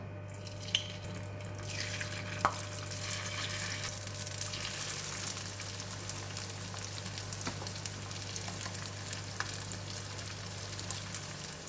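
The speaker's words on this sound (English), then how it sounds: "I heat the oil in the pan and the oil is pretty hot, and now I'm going to put in the" Tofu frying in very hot oil in a pan sets off a strong, continuous sizzling hiss that swells after a quieter start, close and steady, with a few light clinks and no speech.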